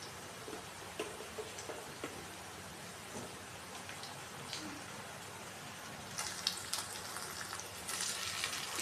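Mushroom fried rice frying in a pan on a stove at high heat, a steady close sizzle with scattered crackles that grows louder toward the end.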